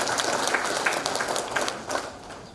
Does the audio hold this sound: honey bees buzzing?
no